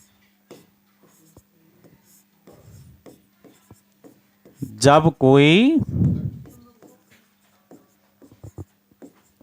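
Chalk or a marker scratches and taps on a board during a physics lesson in a classroom, making scattered short strokes. A teacher speaks loudly over part of it, and the writing sounds carry on quietly before and after.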